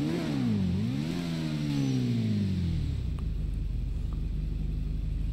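A motorcycle engine in GTA 5 Online revs up and down in sweeping pulls, then settles into a low, throbbing idle rumble, loud and close with no speech.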